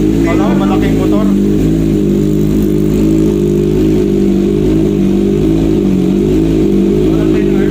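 A Kawasaki ZX25R fitted with an R9 full titanium exhaust runs with a loud, steady, buzzy engine drone throughout, holding a fairly even pitch up close, with faint voices in the background.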